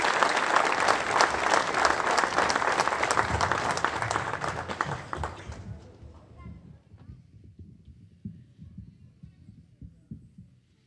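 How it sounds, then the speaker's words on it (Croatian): A festival audience at the 42nd Raspivano klapa gathering in Bibinje gives a klapa choir dense, sustained applause for about five seconds, which then dies away into quieter murmuring and voices. "Podržite ih velikim pljeskom."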